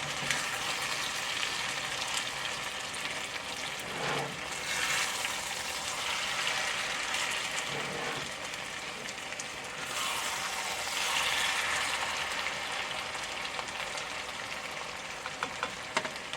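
Okra and yellow squash fry in a crowded skillet with a steady, close sizzle and crackle, broken by a few soft scraping stirs.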